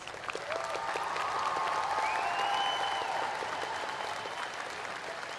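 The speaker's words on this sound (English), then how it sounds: "Another round of applause for our doctoral candidates." A graduate school commencement crowd applauds doctoral candidates with sustained, dense clapping that swells quickly and holds steady for several seconds.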